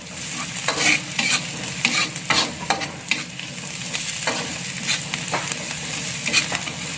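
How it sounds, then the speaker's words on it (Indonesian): Tomatoes sizzle in a pan for a spicy stir-fried fern dish while a spoon stirs them continuously, scraping and clacking in an uneven rhythm over a constant close frying hiss. "Ini sampai tomatnya agak layu ya, kita aduk."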